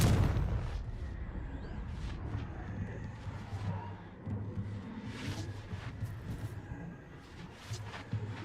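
A Confringo blasting spell in Hogwarts Legacy detonates amid ongoing game combat: a dense, sustained rumbling barrage with repeated booming bursts that hold a steady loudness throughout, with no talking.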